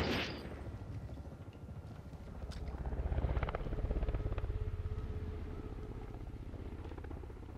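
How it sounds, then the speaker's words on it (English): Helicopter gunfire from the chopper gunner killstreak in Modern Warfare Search and Destroy, a steady rotor drone with rapid bursts of shots swelling in the middle and fading slightly, loud and continuous, no voices. "the chopper gun is not what I wanted to use that round, but it still works"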